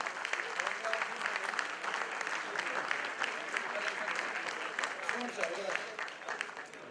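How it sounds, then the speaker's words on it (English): Conference audience applause at a union jubilee gathering in Mumbai: sustained dense clapping from a large crowd, fairly steady throughout, with voices faintly mixed in. "Big round of applause."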